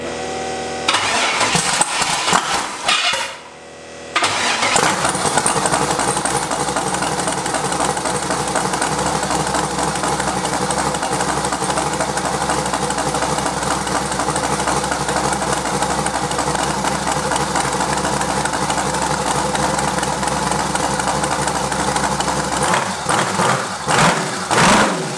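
An eight-turbo V8 Mustang, missing its exhausts, cranks and fires with a few stuttering catches, then settles into a loud, raw, steady idle that fills most of the stretch before some revving changes near the end.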